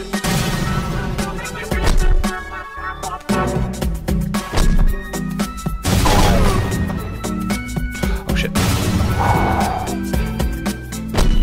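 Bombs exploding in a video game, a rapid series of loud crashing blasts with booming low impacts and debris, several explosions in succession across the clip.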